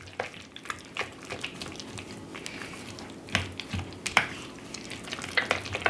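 Thawed frozen spinach is stirred into a thick artichoke dip, giving soft wet squelching and scraping sounds with occasional louder clicks of the spoon against the bowl.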